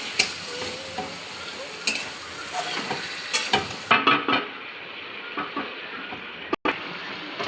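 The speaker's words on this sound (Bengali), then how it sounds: "মাংসটাকে ভালো করে কষাতে হবে, যেহেতু কষা মাংস করছি" Chicken pieces and potatoes being sautéed in a pan for kosha mangsho, with repeated scraping stirs of a spatula over a low sizzle, close and irregular, several louder strokes near the middle and a brief cut late on.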